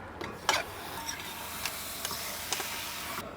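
Chicken rubbed with salt and chili powder frying in a pan and being stirred: faint steady sizzle with light clicks and scrapes of a spoon every half second or so, close by, no talk.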